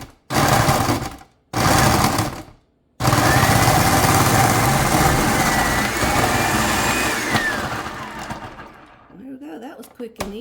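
A motorized grater shreds an ingredient for homemade Southern biscuits made with self-rising flour and sour cream. A loud, buzzing whir comes in two short bursts, then runs steadily for several seconds before winding down into faint clatter.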